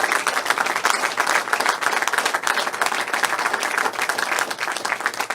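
A crowd claps and applauds vigorously during an election victory speech, a loud, sustained patter of many hands at an even level throughout.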